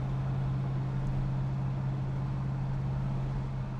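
A 1970 Dodge Charger 500 with a 383 engine cruising at about 45 mph, giving a steady, deep, continuous drone from inside the car, with no voices.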